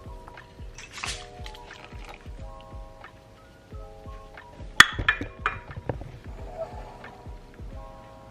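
Cooked rice is dropped from a small pot into a pot of homemade soup, making quiet wet squishes and drips with one sharper splashing plop partway through.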